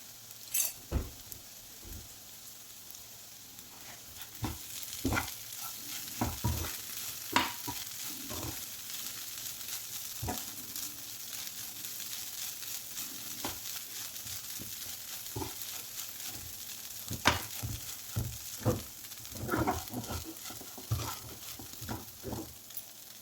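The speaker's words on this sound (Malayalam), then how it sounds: "എല്ലാം കൂടി ഒന്ന് നല്ലതുപോലെ ഇളക്കി കൊടുക്കുക" Aval upma of beaten rice sizzles in a pan while it is stirred, with intermittent scraping strokes and soft knocks spread irregularly over a quiet, steady fry, close and without talk.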